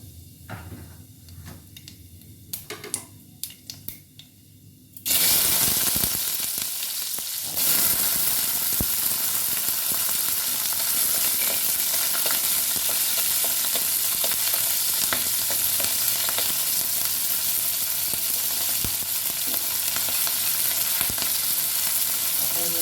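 Nigella seeds (black cumin) hit shallow hot oil with a sudden loud sizzle that holds steady and bright for some twenty seconds, after a few quiet clinks of utensils.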